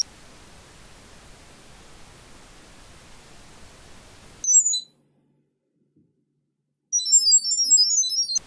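High-pitched warbling sound-pairing tones from a Sonoff GK-200MP2-B IP camera come in short bursts after a stretch of hiss, with one brief burst and then a longer chirping sequence after a silent gap.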